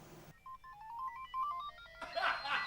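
Close by, a mobile phone plays an incoming-call ringtone as a short stepped melody of clear beeping tones, followed by rustling handling noise.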